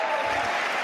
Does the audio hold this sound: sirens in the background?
no